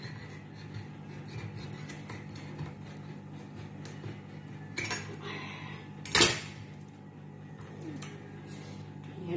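A tin can for fruit salad is punched open with a few sharp metallic taps and clanks at close range, with one loud strike standing out over a quiet room hum.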